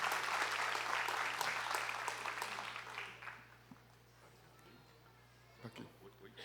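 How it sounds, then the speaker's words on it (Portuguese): Church audience applauding to welcome a speaker, a dense crowd clapping that fills the first three seconds, then thins and fades to scattered claps and room noise. "uma salva de palmas para ele"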